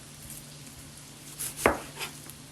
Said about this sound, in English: I'm gonna cut my onion because that's what we're gonna cut.